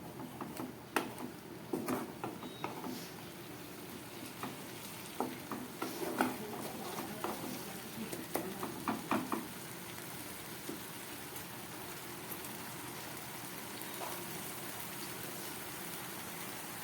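Spice paste frying in a pan over a medium gas flame while making ghugni, giving a close, steady sizzle broken by scattered ticks and scraping stirs throughout.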